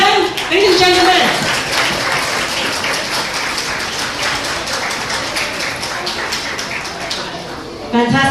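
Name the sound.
wedding guests applauding the couple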